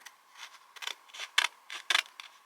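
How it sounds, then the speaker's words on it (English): Scissors cut through paper in a quick series of crisp snips, close and fairly soft, with irregular short pauses between cuts. "use my scissors to cut it"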